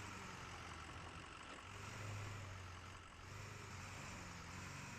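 A truck engine in Snowrunner runs steadily while reversing toward a wrecker, a continuous mid-pitched drone that rises briefly, heard alone and quietly.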